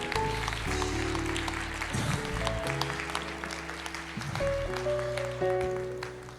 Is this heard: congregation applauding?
yes